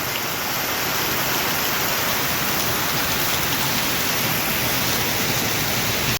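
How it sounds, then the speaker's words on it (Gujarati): Heavy monsoon rain pours down in a steady, dense roar, loud and unbroken with no voices. "ના એ ધબધબાટી વરસાદ બોલાવે છે."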